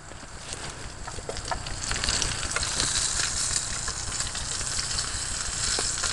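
Bacon fries in a pan at a camp shelter, a steady close sizzle and crackle with scattered pops that grows a little louder and continues throughout.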